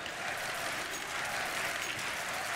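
A packed arena crowd roars and cheers during a Counter-Strike: Global Offensive DreamHack Masters semifinal between Godsent and Ninjas in Pyjamas on the map Train, a dense, continuous wash of massed voices and clapping with no break.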